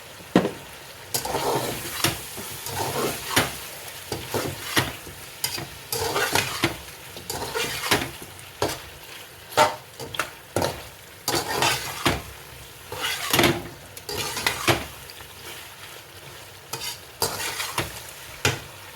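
Spices and chillies frying in a pan, with repeated rhythmic spoon scrapes and clatter over a continuous sizzle for a long stretch.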